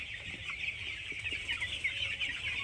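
Young broiler chickens, about fifteen days old, in a poultry farm shed with the curtains opened, make a faint, continuous chorus of high cheeping and soft clucking from many birds.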